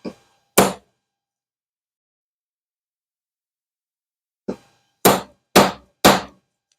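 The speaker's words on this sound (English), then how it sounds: "And use a hammer." A hammer strikes a center punch on very soft aluminum, giving sharp metallic taps: one early strike, then a quick series of four after a pause, close and loud against silence.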